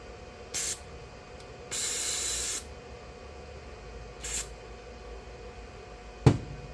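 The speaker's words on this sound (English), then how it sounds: "we'll try to shove some carb cleaner down the hole" Carb cleaner sprayed from an aerosol can into the carburetor of an old Craftsman lawn tractor: three short hissing bursts, one longer and steadier, with a sharp clunk at the end, fairly close in a quiet setting.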